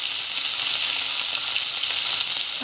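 Mustard seeds and pieces of raw mango fry in hot oil, giving a continuous, close, bright crackling sizzle with small pops throughout and no talking.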